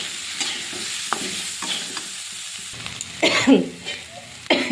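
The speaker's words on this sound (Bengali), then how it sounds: "জিরে ধনে বাটা লঙ্কা গুঁড়ো আর হলুদ গুঁড়ো একটু ভালো করে নাড়াচাড়া করে" A cumin-coriander paste with chili powder and turmeric sizzles and is stirred in a pan for a Bengali katla fish curry. Sharp scrapes and clatters of the spoon rise over a steady fry, and a brief cough is heard near the end.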